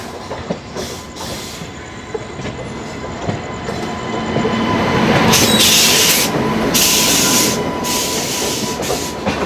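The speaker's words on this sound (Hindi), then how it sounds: "सामने से कोई ट्रेन आ रही है जस्ट लखनऊ चारबाग से डिपार्चर लेके।" Rajdhani Express from New Delhi to Dibrugarh passing near Lucknow Charbagh, heard as a loud rolling train rumble with clickety-clack and wheel squeal that swells toward the middle and stays close, no talking.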